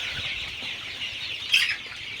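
Chickens on a poultry farm give soft, overlapping clucks and murmurs at moderate distance, with one sharper call standing out briefly and no one talking.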